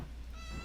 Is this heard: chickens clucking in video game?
no